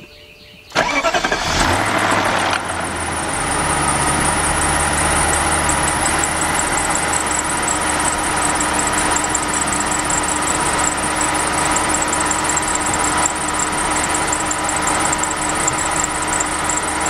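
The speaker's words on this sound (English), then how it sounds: "So let's start this car up." A 2002 BMW 745i with a 4.4-litre V8, fresh from an oil pan gasket job, cranks briefly and fires up, then settles into a steady, close idle with a faint high squeal running over the engine hum.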